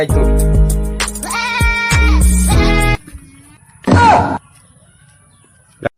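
A goat bleats loudly and close by in a drawn-out, wavering call, followed after a pause by a shorter, harsher bleat, with other voices and noise around it.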